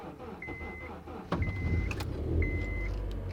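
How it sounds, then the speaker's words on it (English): A car starts up after sitting about twenty seconds in a cold winter blizzard, a sudden cranking catch settling into a steady low engine rumble with faint whirring on top. "We're gonna try to start up the car."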